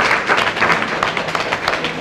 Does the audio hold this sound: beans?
no